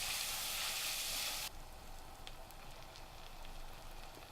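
Onions sizzle and fry in a pot, first as a loud, dense hiss that drops abruptly to a softer, steady crackle with faint scraping as they are stirred; no voices.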